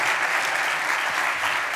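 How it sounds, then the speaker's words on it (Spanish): Audience applause at a Radio Lleida 90th anniversary gala: dense, steady clapping from a large crowd fills the whole brief stretch without pause. "Gràcies, Meritxell, un aplaudiment molt fort."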